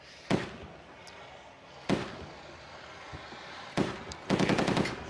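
Tank-mounted machine gun firing at a helicopter-imitation target during a tank biathlon contest between Russia and China: several sharp, distant reports and a short rapid burst at the end, echoing over open ground.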